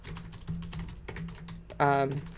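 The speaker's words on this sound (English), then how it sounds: "let's type in love tarot reading" Someone types on a computer keyboard, a string of fast, light, close clicks in an even rhythm, followed by a short burst of speech at the end.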